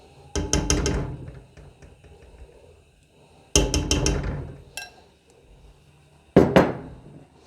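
Three separate bursts of metal clanking and clattering as pots and utensils knock together while food is moved into a pressure cooker, each ringing briefly before fading.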